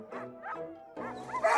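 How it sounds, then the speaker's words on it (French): A lead sled dog at a snowy kennel in the Jura gives a few excited yips and barks in quick succession, close by amid general animal commotion. "il ne me reste plus qu'à retrouver mon chien de tête, Paul-Émile."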